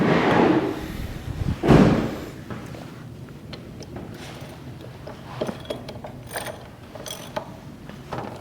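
A ratchet tightens the oil drain plug on a Talaria Sting electric dirt bike, giving close metallic clicking and short mechanical clatter after an opening clunk.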